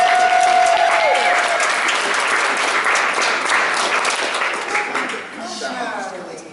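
A cabaret audience breaks into warm applause for a performer, dense clapping that swells and then slowly tapers, with a few voices and a trailing whistle-like cheer near the end.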